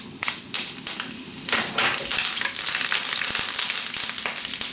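Fresh curry leaves and cumin seeds sizzle in hot oil over just-above-medium heat, a loud, crackling frying burst with bright spitting pops and some stirring, heard alone without talk.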